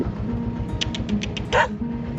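A dog barks in a string of short, regular yaps close by, with a louder burst near the end and low background noise underneath.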